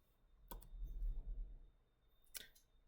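Two short clicks of keystrokes on a computer keyboard at a command line, a second apart, over faint low hum with no talk.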